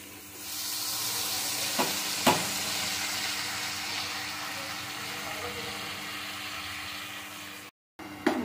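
Cabbage fries in a pan over a raised gas flame for a simple Bengali vegetarian dish, giving a steady close sizzle with a couple of sharp utensil clinks from stirring and a brief break near the end.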